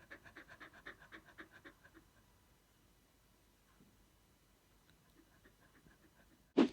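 Dogs pant in quick rhythmic breaths close by for about two seconds, then it goes quiet apart from faint rustling, ending on a short loud bump.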